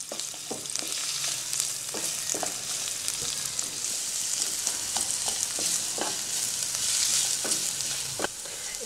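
Sliced onions soften in hot oil in a pan, giving a continuous sizzle with scattered crackles and pops and occasional stirring scrapes, close and steady, with no talking.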